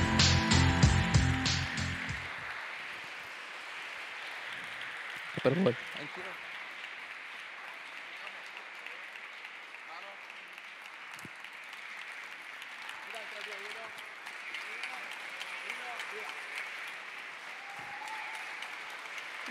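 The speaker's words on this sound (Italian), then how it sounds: "Fate un applauso ai ragazzi che non sono qua oggi e che hanno scritto questo testo" An audience at a talk on legality applauds loudly at the start, then the clapping drops to a thinner, steadier patter that carries on under a brief spoken word and some scattered background voices.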